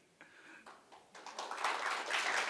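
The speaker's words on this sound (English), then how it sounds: "Let us give a big applause to our ambassador." An audience at a lecture hall event applauds an ambassador: a few scattered claps at first, swelling quickly into fuller, steady applause that grows louder through the short stretch.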